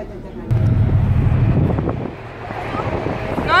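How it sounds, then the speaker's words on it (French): Strong wind buffets the microphone in heavy low rumbling gusts that ease off partway through, with faint voices underneath. "faut parler fort, il y a beaucoup de vent"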